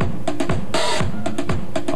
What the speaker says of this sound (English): We add a little bit of the hi-hat to that.